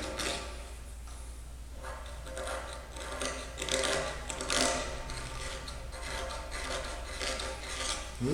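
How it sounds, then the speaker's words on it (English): Hand file rasping on a cast iron worm gear part during repair, a steady scraping rub with repeated strokes, close and fairly loud, with no talk. "Just sharpen this one a little bit."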